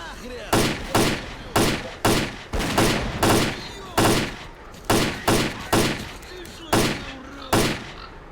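Gunfire in S.T.A.L.K.E.R. Clear Sky, a string of about sixteen sharp, loud gunshots spaced in an uneven rhythm with short pauses, each with a brief echoing tail, and no talk over them.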